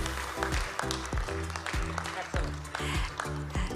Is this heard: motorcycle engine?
no